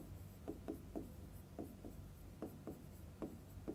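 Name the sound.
writing on a board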